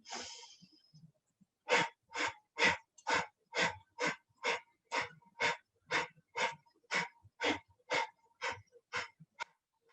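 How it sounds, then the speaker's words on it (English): Deep yoga breathing cycle, a long series of forceful, rhythmic breaths through the nose, about sixteen evenly spaced pulses after a short opening exhale, close and clear with no talking. "We're going to go again for another cycle of breaths. Hand on the abdomen, big inhale."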